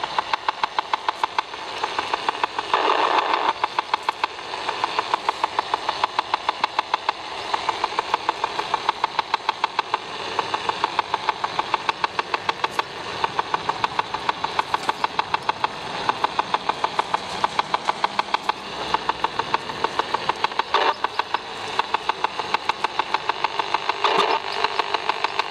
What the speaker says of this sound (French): Il y a des interférences.